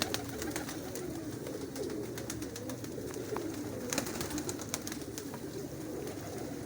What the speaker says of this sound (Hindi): कबूतर है ये